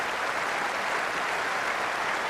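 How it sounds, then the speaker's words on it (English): A cricket crowd at an Ashes Test between England and Australia applauds Justin Langer's 7,000 Test runs, a steady dense clapping from a large stadium audience throughout. "Crowd all applauding"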